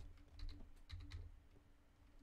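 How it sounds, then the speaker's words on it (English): Faint keyboard typing on a computer during a live gaming stream: a few soft, quick clicks in short bursts over a low steady hum. "Sorry, you typing?"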